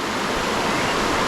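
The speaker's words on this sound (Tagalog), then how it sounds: "So ilog to mga kuis." A river flows steadily at the Kanawan hanging bridge resort in Morong, Bataan, its rushing water making a loud, continuous broadband roar with no pauses.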